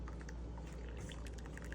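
Coffee poured into a pot through a strainer, a steady liquid splashing and trickling stream with small drips, close and continuous throughout, no talking.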